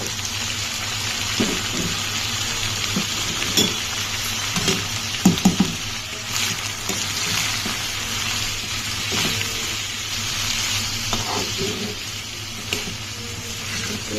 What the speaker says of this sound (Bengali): এতে আগে তেলের মধ্যে ভালোভাবে সব একসাথে ভাজা ভাজা করে কষিয়ে নিব